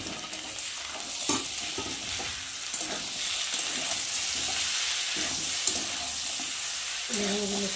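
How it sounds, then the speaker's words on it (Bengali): Cut eggplant frying with potatoes in a pan, a close, steady sizzle broken by irregular spoon scrapes and knocks against the pan, with a few brighter clatters near the end and no voices. "এখন আমি বেগুনগুলোকে দিয়ে একটু ভালো করে ভেজে নেবো"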